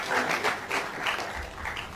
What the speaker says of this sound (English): Maybe we can still clap some more again if you don't know.